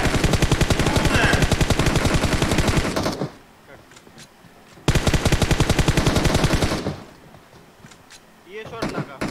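Rapid automatic gunfire in PUBG Mobile, two loud sustained bursts of several seconds each separated by a quieter gap, with a voice starting up at the very end.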